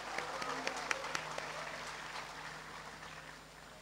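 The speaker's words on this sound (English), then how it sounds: "So let us all give a round of applause for the schools and colleges and our sponsors." Audience applause at a school event honoring schools, colleges and sponsors, a steady wash of clapping with a few sharp individual claps standing out, holding for a few seconds before slowly thinning, with faint voices underneath.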